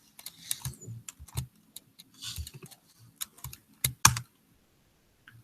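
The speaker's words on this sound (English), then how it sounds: "we switch to the terminal and type SSH root and our IP address" Keys tapped on a computer keyboard while logging into a Debian Linux server from a terminal, irregular bursts of close, crisp clicks with short pauses and a final pair of louder keystrokes.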